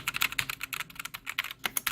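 Clicky mechanical switches on an Alienware AW568 budget gaming keyboard being typed on, a rapid, uneven run of sharp close keystrokes with no talking.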